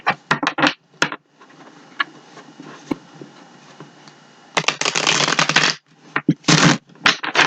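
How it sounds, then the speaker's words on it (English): A deck of tarot cards is riffled and bridged in quick crackling bursts, with a softer sustained shuffle in the middle, close and loud, and nobody speaking. "So I'm going to give them a couple shuffles."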